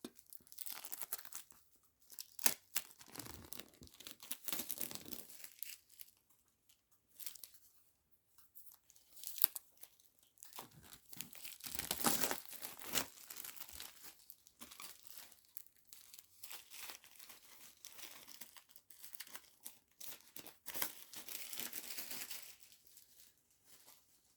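Packaging for a Bayonetta 3 Trinity Masquerade Edition being unboxed, with close, quiet bursts of crinkling plastic and tearing wrap coming in irregular clusters separated by brief pauses, no talking.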